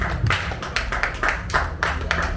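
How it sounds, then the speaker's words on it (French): Audience at a live comedy show claps in rhythmic pairs, a series of short, sharp hand claps repeating steadily in a room, with some voices underneath. "On applaudit 2 fois."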